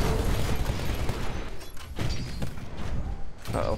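Gunfire in Titanfall comes as rapid volleys and heavy thuds at close range, bursting repeatedly across the moment, with a player's voice talking over it.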